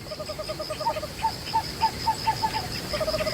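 A barn owl calls in a series of short, evenly spaced hoots, fairly faint over a soft background hiss, with a brief pause before a quicker run of notes at the end.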